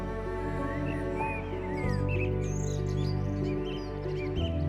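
Birdsong in the Siberian wilderness in summer, with several faint chirps and short whistled phrases floating over a steady low rumble and hum that runs beneath the whole stretch.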